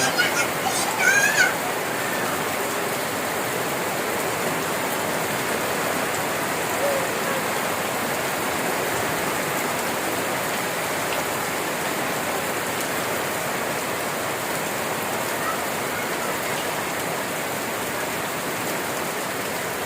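Heavy rain falls on a tent in a dense, unbroken hiss that stays loud and steady the whole time, with a brief patter of sharper drops at the start.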